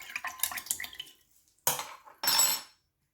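A utensil stirs water and oil in a glass, giving a quick run of light clinks and swirls, then two separate bursts of sloshing liquid, with silence after.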